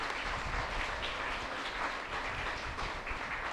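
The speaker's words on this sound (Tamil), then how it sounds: "இறை மக்கள் ஒவ்வொருவரையும் வருக வருக என்று அன்போடு நாம் கைத்தட்டி வரவேற்போம்." Applause from a church festival congregation welcoming guests, a steady dense wash of clapping held at even loudness throughout, with no voice over it.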